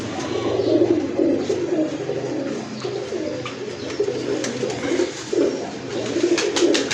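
Teddy breed flying pigeons coo in a steady, close series of soft rolling calls, overlapping in pulses with faint rustling and a light hiss behind them.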